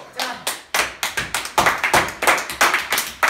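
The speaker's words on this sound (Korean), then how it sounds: "자 기립박수." Company staff give a standing ovation, a steady run of brisk, close hand claps from a small group that keeps an even rhythm throughout with no talking.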